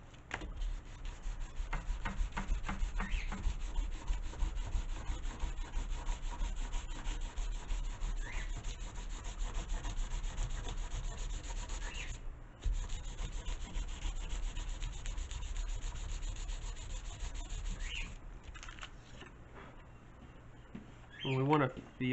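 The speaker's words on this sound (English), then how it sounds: "And now we can come in here, sand all the rest of this." Vigorous back-and-forth sandpaper strokes on the wings of a Science Olympiad elastic-launched glider, loud rhythmic rasping close up with a table rattling, pausing briefly twice before a final burst.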